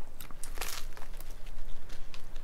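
Someone biting into a crusty beef banh mi sandwich, sharp crackly crunches in quick bursts up close, followed by softer chewing and crinkling.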